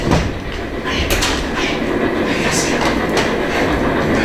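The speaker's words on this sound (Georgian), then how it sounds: "მატარებელი მოდის" A train arriving rumbles steadily close by, a dense roar of wheels on rails with faint clattering and hiss, continuous throughout.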